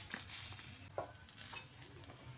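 Beans, eggplant and potato are stirred in a pan with turmeric, cumin and Kashmiri chili powder for a Malabar spinach seed dish: soft, close scrapes and taps of a spoon over a faint sizzle.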